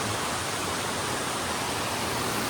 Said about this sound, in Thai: ตรงนี้มีน้ำตกด้วย